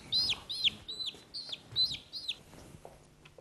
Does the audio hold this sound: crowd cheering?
no